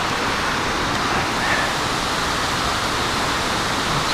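A waterfall at a shallow creek dam on Autauga Creek, Alabama, gives a steady, broad rushing wash of water that stays even and close throughout, with no voices.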